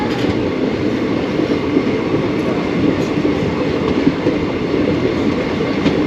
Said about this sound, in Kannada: ಗಾಡಿ ಪಾಸ್ ಆಗ್ತೈತೆ ಇವಾಗ ಕೆಂಗೇರಿಯಿಂದ